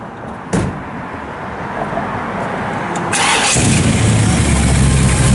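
A 1964 Chevrolet Impala SS with factory-style headers and dual Flowmaster exhausts cranks briefly and fires up, settling into a loud, deep, rumbling idle close by.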